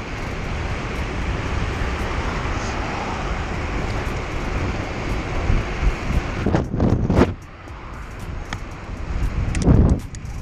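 Strong wind buffets the microphone outdoors in a roaring, gusting rush that rises and falls. Occasional louder bursts break through the roar, with no speech.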